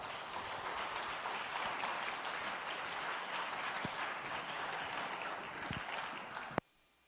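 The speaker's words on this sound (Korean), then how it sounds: "박수 부탁드립니다" An alumni gathering applauds before an ocarina solo, with a steady, fairly faint wash of crowd clapping that stops abruptly at the end with a sharp click.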